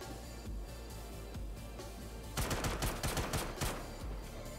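Quiet gunfire in Star Citizen during a base mission, a rapid burst of muffled shots midway through over a steady low background hum, faint and somewhat distant, no talking.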